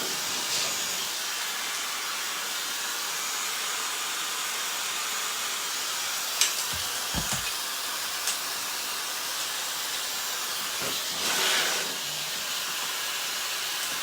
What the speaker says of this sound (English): I'd use my hairdryer